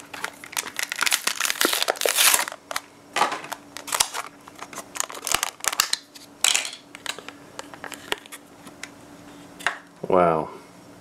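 A plastic blister package holding a Hot Wheels toy car is cracked open, making loud close crinkling and crackling bursts that come in uneven clusters, followed by a brief spoken exclamation.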